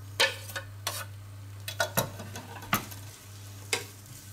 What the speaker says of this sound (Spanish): Y ahora cuando la mantequilla ya esté fundida, la vamos a pochar durante unos minutos.